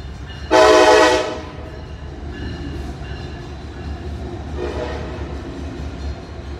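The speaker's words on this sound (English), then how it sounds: "Damn train, man." A train horn blasts loud and close for about a second, fading as the train rumbles past, with a fainter second horn-like swell later over steady low rail noise.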